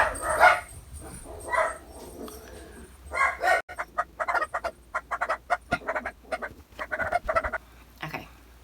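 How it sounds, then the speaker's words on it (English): A pet dog barks in a rapid run of short, sharp yelps indoors, loud and close, tapering off near the end with no talking. "That's my dog."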